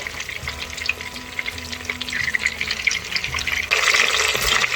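Chicken pieces sear in an Instant Pot, giving a continuous close sizzle with soft crackles that grows louder and brighter near the end.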